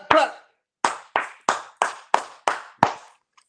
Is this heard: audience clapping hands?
yes